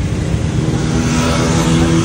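Road traffic roars past on the Lahore–Sialkot motorway, a loud, continuous rush of engines and tyres heard from a roadside stop, with no talk over it.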